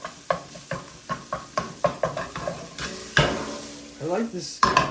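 Beef strips stir-fry in a steep-sided pan for a beef and bell pepper dish, loud and close, with rhythmic scraping tosses about every third of a second, then a burst of louder sizzling and clatter.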